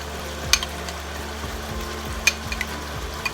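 A yogurt-based butter chicken spice blend goes into a hot pan and is stirred, making a continuous close sizzle with a few sharp scrape clicks of the utensil, no voices.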